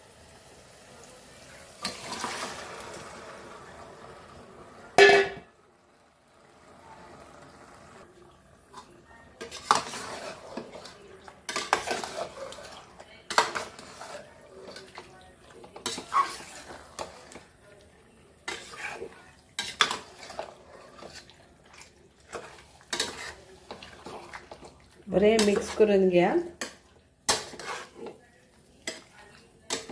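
A spoon stirs 1 kg of chicken into fried masala in a pan for Goan curry, scraping and clinking against the metal in irregular bursts, with a soft sizzle and brief talk in between.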